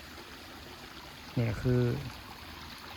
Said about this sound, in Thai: น้ำตกภูเขาบ้านอ่างแล้ว